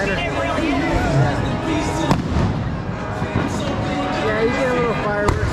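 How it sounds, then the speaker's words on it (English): Fireworks go off on a San Francisco Mission District street, with two sharp loud bangs standing out against constant street noise while people talk. "you get a little fireworks in most neighborhoods"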